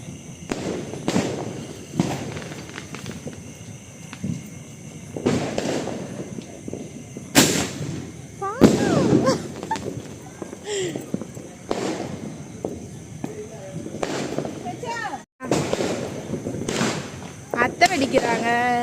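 Diwali firecrackers burst in a series of sharp, loud cracks and bangs, some with crackling and whistling tails, at irregular intervals while people talk and react nearby.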